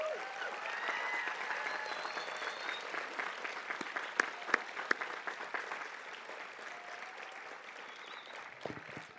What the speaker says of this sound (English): Ladies and gentlemen, please applaud our great educators here at Pacific Union